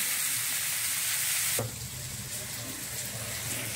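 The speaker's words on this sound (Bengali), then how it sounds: "আমি এই মাংসটা ওর মধ্যে ঢেলে দিয়ে ভালো করে কষিয়ে নেব" Chicken frying with onions in a pan: a loud, bright sizzle that drops suddenly to a quieter, duller frying hiss with light stirring, heard up close.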